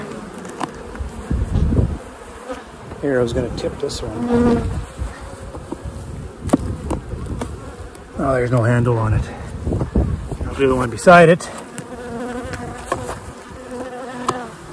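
Steady insect buzzing of many bees from an open box, continuing beneath someone speaking close by, with handling bumps and a thud.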